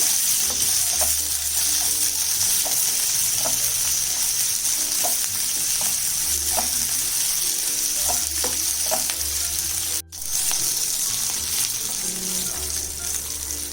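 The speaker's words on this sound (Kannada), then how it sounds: "ಮೆಣಸಿನ್ಕಾಯೆಲ್ಲ ನೋಡಿ ಈ ಥರ ವೈಟ್ ವೈಟಾಗಿ ಸುಂಡಬೇಕಿದು ಎಣ್ಣೆಲೆ ಚೆನ್ನಾಗಿ ಹುರಿಬೇಕು" Green chillies fry in oil over a medium flame, giving a steady close sizzle with regular scraping strokes of a spoon stirring them through the pan.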